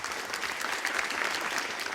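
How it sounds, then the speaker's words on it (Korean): Audience applause at a 2019 social-economy crowdfunding competition, a brief steady burst of many hands clapping, fairly close and even, with faint voices mixed in. "박수 좀 네, 보내주시기 감사합니다."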